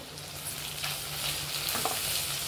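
Onion and tomato sautéing in a spice tempering for veg dalcha, a steady close sizzle with soft stirring scrapes throughout.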